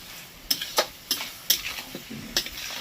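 Fish roe kofta curry masala being stir-fried in a pan, with a spatula scraping in several sharp strokes over a soft sizzle, close and fairly loud, no talk.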